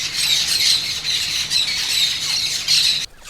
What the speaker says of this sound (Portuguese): Primeiro chega um periquito para avaliar o terreno, depois outro e aí vem o bando inteiro.